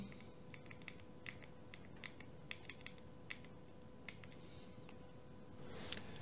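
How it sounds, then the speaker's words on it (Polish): Buttons are pressed on a Ledger Nano X hardware wallet to enter a PIN: about a dozen small, sharp clicks at an uneven pace, close and quiet against faint background hum. "A więc wpisuję w moim urządzeniu kod PIN."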